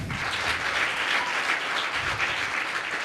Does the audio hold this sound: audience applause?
yes